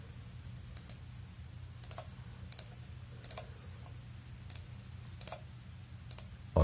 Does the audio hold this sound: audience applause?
no